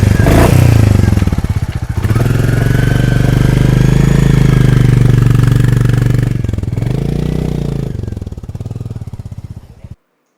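A Royal Enfield Classic 350 next-gen motorcycle riding on an Ooty trip, its steady mid-pitched engine drone loud and close for about ten seconds before easing off and fading out at the end.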